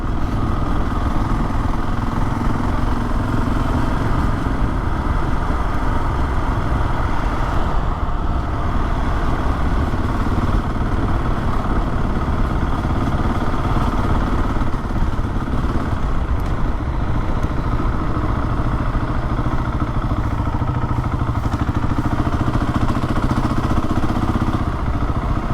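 Motorcycle engine running steadily while riding on the road, loaded with gear, a continuous droning rumble with wind noise that stays close and fairly loud throughout, with no talking.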